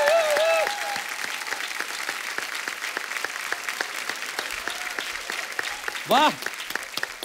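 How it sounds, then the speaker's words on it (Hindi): A studio audience at a televised comedy show claps continuously in the background, while voices speak and exclaim over the applause. "जोरदार तालियां।"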